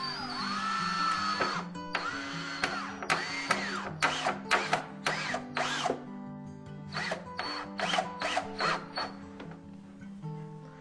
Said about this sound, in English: when you sink those screws, it lines your cabinet up